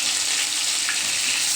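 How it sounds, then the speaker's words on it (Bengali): Hilsa fish pieces fry in hot oil in a pan with a steady, close sizzling hiss throughout a short stretch, no voices. "তাহলে আমার এখানে মাছগুলো একটা দিক ভাজা কমপ্লিট হয়ে গেছে, অপর দিকটা উল্টে দিচ্ছি।"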